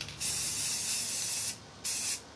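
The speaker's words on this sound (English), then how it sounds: "There's that spray paint." Matte yellow spray paint can spraying, a loud, close, airy hiss held steady for over a second, a brief pause, then a second shorter burst.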